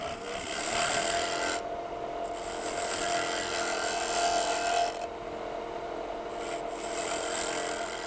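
Steady, continuous scraping and rasping from a gouge cutting the bottom of a wooden bowl spinning on a lathe, close and fairly loud, with brief dips where the tool lifts off the wood.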